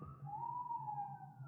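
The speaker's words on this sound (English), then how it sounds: "police siren." Police siren wailing in a steady, sustained tone at moderate level, with a low engine hum beneath it, as it draws up and stops outside a house at night.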